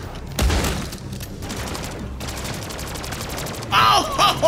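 Rapid automatic gunfire in a zombie video game map, loud bursts of fast shots rattling near, broken by brief pauses and a heavier blast near the end, with a voice shouting over it.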